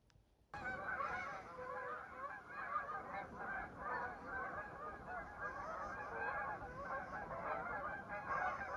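A huge flock of geese passes over a forest by a frozen lake, honking continuously in a dense overlapping chorus that rises suddenly and stays steady at a moderate distance, with no talk.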